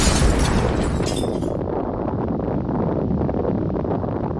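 A volcanic explosion from a sci-fi animation bursts out as a loud, dense roar that stays heavy and continuous, rumbling on without any voices.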